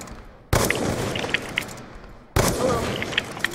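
Pistol gunshots from the video game Call of Duty Black Ops 2, two loud sharp blasts about two seconds apart, each followed by a lingering noisy tail.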